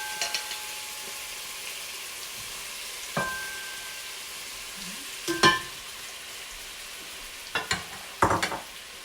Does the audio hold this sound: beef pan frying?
yes